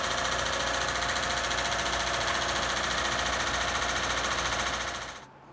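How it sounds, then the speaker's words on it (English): A Lincoln Town Car engine makes a loud, steady mechanical racket with a rapid rhythmic knocking clatter, running close and continuous before cutting off at the end. "my Lincoln Town Car I said was bulletproof is making a racket."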